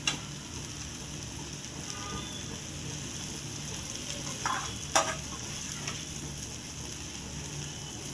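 A bread and egg omelette crisps in a pan with a soft, steady sizzle, and a few sharp clicks of a spatula or pan break through near the middle.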